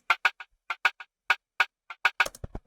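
Dry snare drum sample for an Afro swing type beat, struck in a syncopated pattern of about a dozen sharp, tight hits with no echo tail, loud and close, ending in a quick cluster of rolls.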